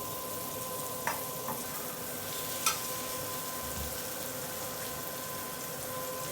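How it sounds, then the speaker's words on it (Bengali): Onion, turmeric, green chilli and cumin paste frying in a pan, a faint, steady low sizzle with a couple of brief utensil clinks, heard alone at a distance. "মশলাটা সুন্দরভাবে একটু কষানো হোক"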